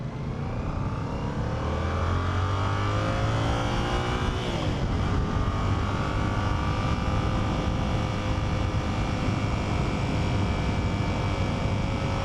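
An Aprilia motorcycle engine drones steadily while riding, loud and continuous, with a pitch that dips and then settles into an even hum under wind noise, and no voices.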